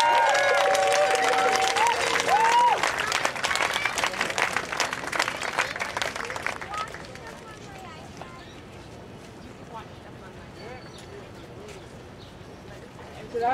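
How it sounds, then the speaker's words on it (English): Outdoor crowd applause and cheering at an Anishinaabe anti-mining rally, loud and dense for about seven seconds with whoops and voices mixed in, then fading to quieter open-air ambience. "We have a round of applause for Cecilia."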